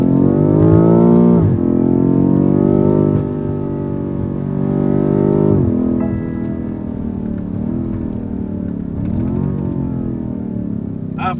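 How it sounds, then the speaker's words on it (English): BMW M5 Competition exhaust rumbling loud and close through a series of downshifts, with repeated revving rises and falls and throttle lift-offs across the stretch. "And the exhaust really is good, especially when you lift off."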